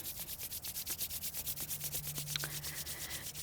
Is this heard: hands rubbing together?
yes